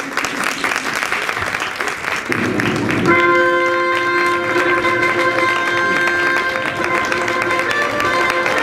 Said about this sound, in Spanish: Cuando entre, todo el mundo que aplauda, por favor.